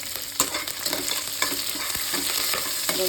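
Small pieces of garlic and two sprigs of curry leaves frying in a pan, a dense sizzling crackle with occasional stirring scrapes and taps, close and continuous without any speech.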